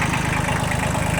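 Kubota L1802DT, an 18-horsepower four-wheel-drive compact tractor fitted with a front loader and rotary tiller, idling on a frosty winter day, its steady low diesel chug close and continuous with no talk.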